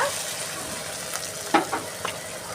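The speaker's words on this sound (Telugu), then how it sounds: "ఇప్పుడు టమాటాలు వేసుకున్నామండి ఇప్పుడు ఒకసారి మిక్స్ చేసుకుందామండి" Tomatoes frying in a pan for an egg and potato curry sizzle steadily up close while a spoon stirs them, with a couple of quick scrapes near the end.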